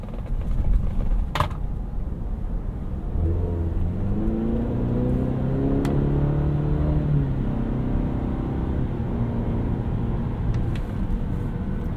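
Heard from inside, a 2021 Cadillac CT5 Luxury with the base 2-liter engine and ten-speed gearbox accelerates uphill, its engine note rising through gear changes over road rumble, with a few sharp clicks.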